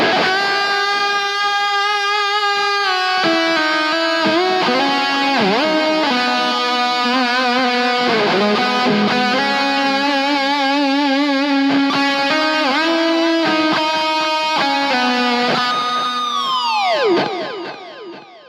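Distorted electric guitar through a Mark II C+ amp simulator and Marshall cab plays a sustained, singing lead line with bends and vibrato, thick with reverb and delay, ending in a swooping fade.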